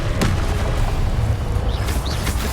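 A Confringo spell blast in the video game Hogwarts Legacy gives a loud, dense explosive roar with crackling bursts that fills the whole short moment without a break.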